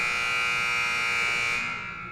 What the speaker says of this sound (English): Now we're about to hear that buzzer,